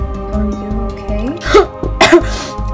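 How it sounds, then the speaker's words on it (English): Two sharp, harsh coughs burst out close by, one after the other, over a background of music with a steady tone. "Why I'm coughing."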